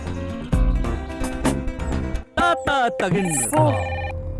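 A telephone ringtone plays a bright, repeating melodic ring, loud and close, in short bursts.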